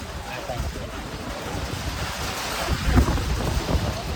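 Heavy monsoon rain pours in a steady wash in Rajkot, while a low thunder rumble swells briefly near the middle and wind buffets the microphone.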